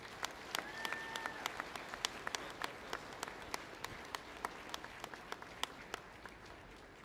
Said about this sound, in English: Please give a round of applause for your student athletes.